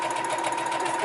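A sewing machine stitching forward along a seam line on a lace wig cap, a fast, even mechanical whir with a steady tone running the whole short stretch at moderate volume.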